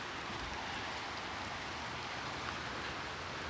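Steady rain falls outdoors on a muddy yard ahead of a big storm, a continuous even hiss with no gaps, close and moderately loud, and no one talking.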